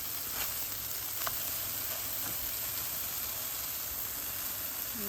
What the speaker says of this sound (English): Since I don't want to continue frying them for too long